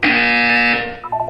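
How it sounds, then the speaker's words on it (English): Loud harsh electronic buzzer from the video game Portal 2, a single sustained raspy tone lasting under a second before cutting off into a short fading tail. "When you hear the buzzer, look up at the ceiling."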